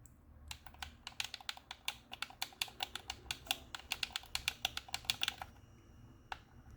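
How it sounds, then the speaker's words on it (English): Tactile switch buttons on a Gamesir G7 SE controller pressed in a fast, steady run of crisp, close clicks for about five seconds, then one last click, with no talking. "The front menu buttons have tactile switches, and you get a membrane Dpad here too."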